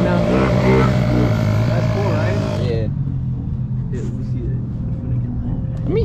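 A Kawasaki KLX 110 dirt bike engine revs loudly up close, revving and then dropping toward a low rumble, while someone talks over it.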